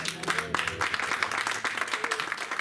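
A church congregation claps and cheers during a sermon, a dense wash of applause with voices shouting over it, loud and close throughout.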